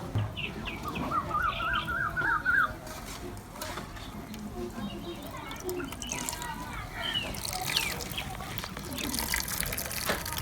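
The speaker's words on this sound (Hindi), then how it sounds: "अब इसमें जो कड़वा पानी है वो अच्छी तरह निचोड़ देंगे।" Boiled fenugreek leaves are squeezed by hand, releasing wet squelches and drips of bitter water, with faint bird chirps in the background and a voice talking intermittently.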